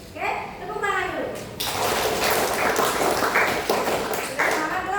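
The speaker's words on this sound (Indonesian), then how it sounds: "Oke, tepuk tangan dulu." A classroom of pupils clapping their hands together in a dense, sustained burst of applause, loud and close, with a voice speaking at the start.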